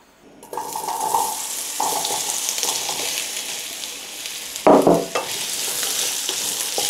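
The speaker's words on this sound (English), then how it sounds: "get some oil, put into our pan, and get these frying off" Steady sizzling of potatoes frying in oil in a hot pan, with occasional stirring and scraping clatter, close and continuous with no talking.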